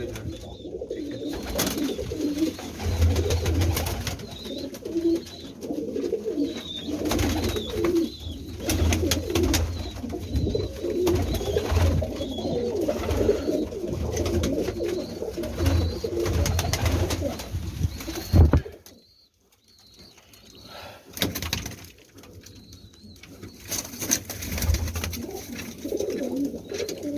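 A flock of pigeons of a kept breed coo continuously and close by, with wing flaps and rustling throughout and a brief lull near the end.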